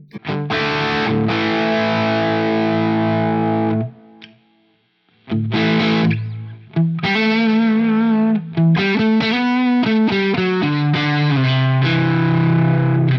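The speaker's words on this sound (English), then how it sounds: "I want to hear what this tube screamer model really sounds like." Distorted electric guitar through a Quad Cortex tube screamer overdrive model, playing sustained chords, then a brief pause and a run of choppier chord stabs and picked notes, loud and alone with no talking.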